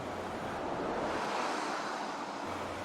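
Keila waterfall on the Keila river in Estonia, a steady broadband rush of falling water, faint and continuous, with a little wind in the microphone and no voices.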